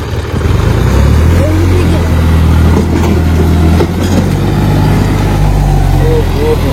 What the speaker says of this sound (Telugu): ట్రాక్టర్ వచ్చేసి ముందర లైట్ గా లేస్తుంది.